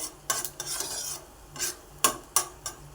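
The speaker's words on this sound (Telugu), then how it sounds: "డ్రై ఫ్రూట్స్ వేసుకుందామండి కొద్దిగా వేగితే సరిపోతుందండి" Dry fruits frying lightly in a pan for custard semiya kheer, a soft sizzle under repeated scraping and stirring strokes from a spoon, close and fairly loud with no talk.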